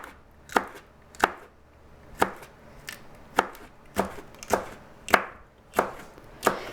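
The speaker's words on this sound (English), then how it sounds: "You just chop them into thin rounds." Peppers sliced into thin rounds with a knife on a cutting board, about ten crisp chops at a slow, fairly even pace, close and clear over quiet background with no speech.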